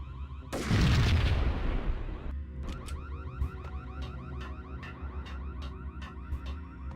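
A loud burst of gunfire and explosion opens a Max Payne video game firefight, followed by a lighter run of repeated rapid shots and mechanical clicks.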